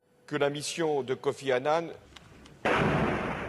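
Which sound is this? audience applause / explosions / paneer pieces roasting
explosions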